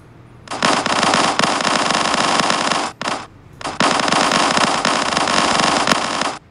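Rapid automatic gunfire from a mobile video game comes in two long, loud, sustained bursts separated by a brief short volley, with no talking.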